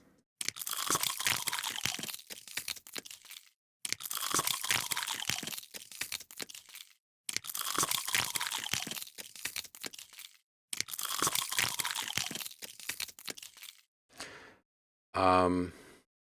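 Four loud, close bursts of crisp crunching, each a few seconds long and separated by silence, come from a carrot and a pretzel chip used as sound effects, ending in two short rougher noises.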